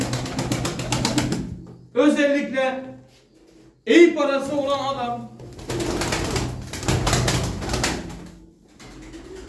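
Tumbler pigeons coo in two close bursts of throaty warbling, with someone talking in Turkish before and after them.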